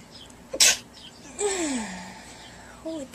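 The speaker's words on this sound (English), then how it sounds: "I'm gonna sneeze." A girl lets out a single sharp, close sneeze with a quick breathy burst, followed by a few faint vocal sounds and a short exhale.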